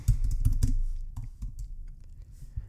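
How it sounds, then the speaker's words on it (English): Quick bursts of keystrokes on a computer keyboard as a search is typed, close and clicky, with a dense flurry at first, then scattered taps trailing off. "So I'm just going to type this in Google."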